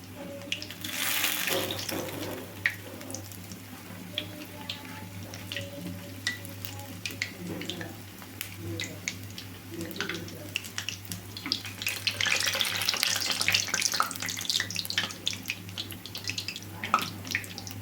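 Urad dal vadas frying in hot oil, a soft steady bubbling sizzle with scattered crackles that grows louder near the end.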